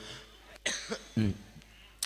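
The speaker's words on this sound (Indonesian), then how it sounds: "Batuk dulu." A couple of short, rough coughs close to the microphone, with a quiet throat sound between them.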